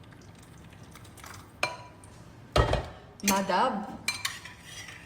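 Pot clatter and metal utensil clinks from stirring potatoes and chicken together in a home kitchen, a few sharp scrapes and knocks between quieter stretches, with a brief word spoken.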